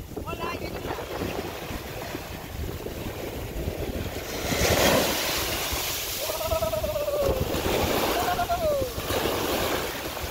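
Ocean waves breaking on a beach at Acapulco, Mexico, a continuous rushing surf wash with heavy wind noise and a louder surge midway, while people talk and call out over it.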